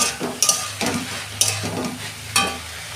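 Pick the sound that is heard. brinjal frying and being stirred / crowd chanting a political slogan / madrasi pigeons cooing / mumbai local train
brinjal frying and being stirred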